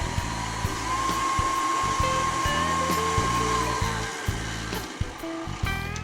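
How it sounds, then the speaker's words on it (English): An electric hand mixer beats red velvet cake batter in a bowl with a steady, close whirring hum and slight changes in pitch as the beaters move, and no talking. "you can use a hand mixer, which is absolutely fine"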